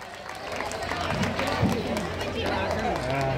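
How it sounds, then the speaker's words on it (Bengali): Loud, dense clapping from a school crowd as teachers are welcomed with flowers, sustained throughout with a busy hubbub of voices mixed in. "জোরে হাততালি"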